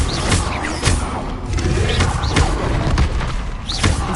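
The Confringo fire-blast spell in Hogwarts Legacy bursts in repeated heavy booms and crackling thuds, loud and dense across the moment, with a few whooshing sweeps layered over the blasts.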